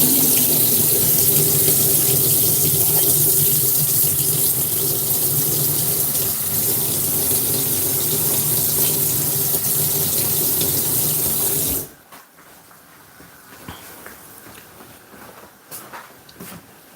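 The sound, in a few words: water running from tap while washing a board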